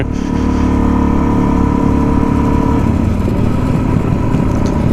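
A Suzuki DRZ motorcycle engine drones loudly and continuously while riding on back roads, with a steady mid-pitched growl and wind rumble close up, no talking.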